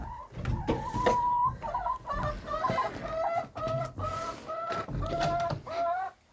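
A hen clucks repeatedly while laying eggs, a run of loud, close, rhythmic clucks and squawks with short pauses between bursts.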